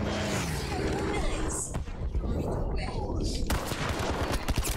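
Rapid gunshots from Battlefield 5 combat crackle almost continuously, with dense bursts and a sharp final flurry, while voices speak over the fighting.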